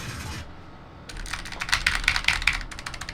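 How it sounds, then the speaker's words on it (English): Rapid clicky keystrokes on a Razer Huntsman Mini mechanical keyboard with clicky switches, starting after a brief pause and rattling along at a quick, uneven pace up close. "Let's do a stream test."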